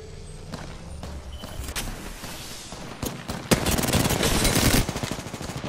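Gunfire in the video game Apex Legends: rapid automatic bursts and scattered shots over a busy game mix, building into dense, louder firing toward the end.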